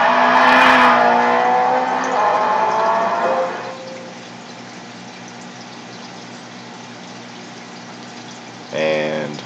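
A tuned 2004 S2000 GT1 Turbo race car engine in Gran Turismo, loud and droning for the first few seconds before fading into quieter background noise, then a brief revving burst near the end.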